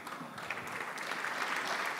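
Sustained applause fills a session of the French National Assembly, a dense, steady clatter of many hands clapping throughout the chamber with no speech over it.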